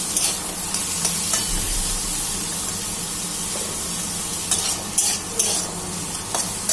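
Peas stirred with spices and fried onions in a pan, a low continuous sizzle under repeated scraping and clinking of a spatula, with sharper stirring strokes toward the end.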